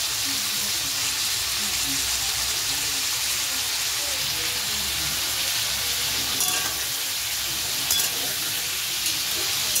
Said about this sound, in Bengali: মাংসটা আর আলুটা দিয়ে একেবারে ভেজে নিচ্ছি